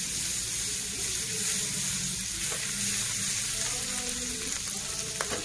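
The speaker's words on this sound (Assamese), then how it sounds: "তাৱাখনত বাটাৰ দি অমলেট কৰিছো কণীটো" Egg omelette frying in butter on a tawa, a steady broadband sizzle running the whole time with a few small clinks and scrapes from stirring.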